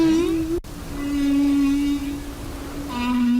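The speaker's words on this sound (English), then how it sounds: "Most people know humpback whale song." Humpback whale song: a long, sustained tonal moan that holds steady and then slides slightly, rich in harmonics, clear and prominent, with a second call starting near the end.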